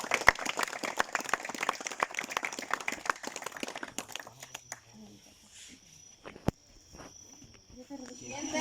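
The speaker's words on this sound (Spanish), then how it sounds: "A ver, un aplauso." A small group at a school camp pageant claps in a brisk, sparse patter for about four seconds, then falls quiet apart from a few isolated claps and faint background sounds.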